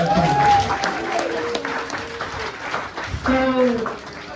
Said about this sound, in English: if you love your grandmother, clap it up for your grandmother